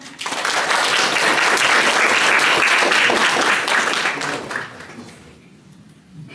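Loud, dense audience applause fills the room after a talk on the Finnish game industry, holding steady for several seconds before tapering off into quiet.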